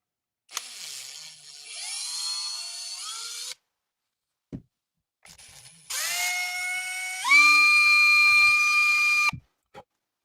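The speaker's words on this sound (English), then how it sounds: "Best way to do it is just turn down the speed on your drill and go slow." A power drill boring holes into a handmade crankbait lure at low speed, whining in two bursts that rise in pitch as the motor spins up, separated by a brief pause and a small click.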